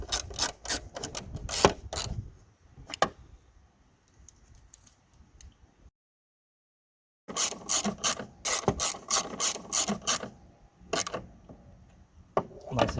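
A hand ratchet clicks rapidly while tightening two nuts on a Peugeot 3008 tail light, with two bursts of close, crisp ratcheting split by a few seconds of silence and some slower, quieter clicks in the first half.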